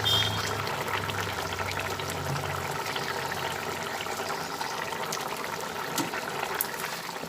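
Bottle gourd peel kofta curry bubbling steadily in a pan, a continuous close wet simmer with no talk over it.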